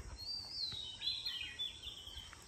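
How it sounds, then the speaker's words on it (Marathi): Birds in a village morning, a faint thin chirping whistle that wavers and trails through the clip over quiet outdoor background, distant and soft, with no voices. "पक्ष्यांचा किलबिल आणि"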